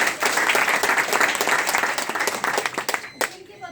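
An audience at a business meeting held at a dhaba in Murthal applauds with dense, continuous clapping at moderate distance, tapering near the end.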